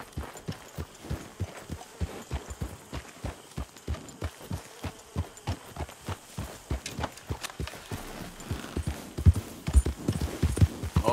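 Hooves of a horse in Red Dead Redemption II clip-clop in a steady, close rhythm, quickening toward the end, with no talking over them.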